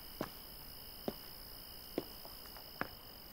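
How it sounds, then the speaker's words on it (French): Sharp, loud chirps at a slow, regular pace over a steady high-pitched insect drone, with fainter chirps in between. "le chant des grillons."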